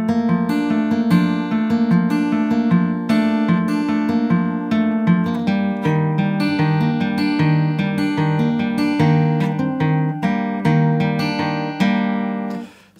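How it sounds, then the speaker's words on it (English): Acoustic guitar plays the chorus of a song in clear, close, ringing picked notes and chords. It runs steadily through a repeating phrase, then fades out at the end with no voice. "We then go on to the chorus, which sounds like this."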